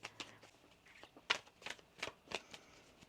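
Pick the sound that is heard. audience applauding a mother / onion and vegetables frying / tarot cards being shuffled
tarot cards being shuffled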